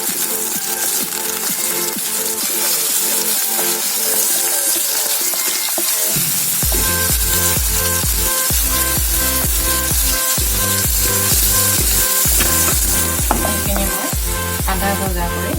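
Onion fries in hot oil in a kadai, a steady close sizzle joined midway by rhythmic, repeated clattering strokes of stirring.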